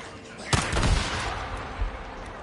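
Pistol fire in a shooter video game, a loud close burst of shots with a couple of quick follow-up pops, over constant game background noise.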